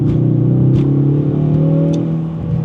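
A 2025 Ford Mustang with the 2.3-liter EcoBoost engine accelerating, its steady engine drone holding loud and close throughout with a rising harmonic whine, no voices over it.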